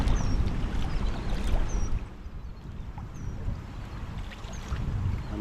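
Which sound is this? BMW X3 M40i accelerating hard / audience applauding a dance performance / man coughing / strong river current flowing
strong river current flowing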